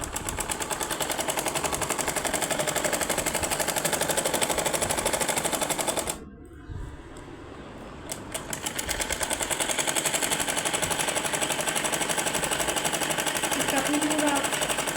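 A sewing machine stitching fabric panels together with thread runs in a steady, fast rhythmic clatter, close and loud, stopping briefly for about two seconds partway through before resuming at the same pace.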